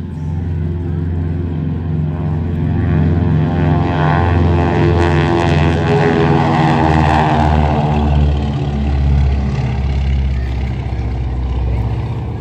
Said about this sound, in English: I'll just let you listen to the sound of this Beech 18 taking off.